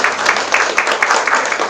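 Audience applause during a prize drawing at a startup accelerator demo day in Cheongju, a brief burst of dense clapping filling the room at close range.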